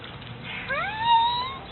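A cat meows once near a fishing tackle box outdoors, a clear drawn-out call that bends upward then holds, close and fairly loud over a soft background with no talk.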